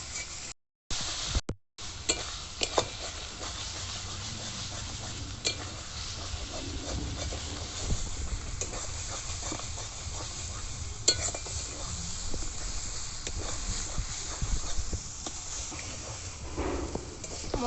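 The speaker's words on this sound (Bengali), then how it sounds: "এরপর টমেটোগুলো মশলার সঙ্গে ভালো করে কষিয়ে নিতে হবে।" Tomatoes cooking down with spices in a pan for a Bengali rohu fish curry, giving a steady close sizzle with repeated scraping stirs throughout and a couple of brief breaks near the start.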